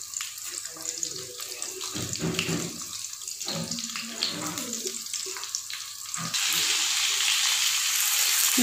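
Eggplants fry in hot oil in a kadhai, a loud continuous sizzle and hiss with intermittent clatter, swelling louder and brighter toward the end.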